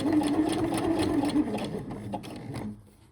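A domestic sewing machine runs steadily while stitching elastic lace onto lingerie fabric, a close, continuous rapid whirring hum that slows and stops near the end.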